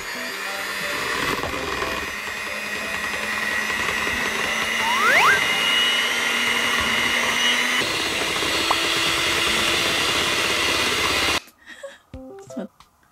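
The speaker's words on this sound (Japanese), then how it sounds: "ハンドミキサーで。" A handheld electric mixer whips egg whites into meringue in a bowl, a steady whirring motor hum that runs continuously for about eleven seconds before cutting off abruptly, leaving brief faint clatter.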